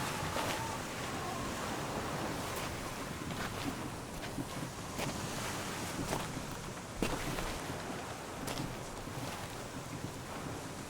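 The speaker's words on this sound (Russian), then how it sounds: "Поднялся сильный ветер." Strong wind blows over open sea off Hiiumaa, Estonia, by a rowing boat and buffets the microphone in a constant rushing roar, with water splashing and a few brief knocks and bumps.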